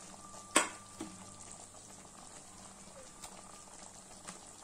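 Buttermilk curry (mor kuzhambu) with ladies finger just starting to boil in a pot, a soft steady bubbling simmer close by, with one sharp clink near the start and faint light ticks, no talking.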